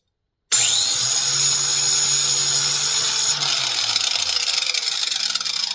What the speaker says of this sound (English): so we'll just take and grind this one off.